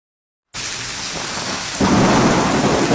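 Florida thunderstorm with rain and hail, heavy steady downpour hissing loudly, then swelling into a deeper rumbling roar as the storm intensifies.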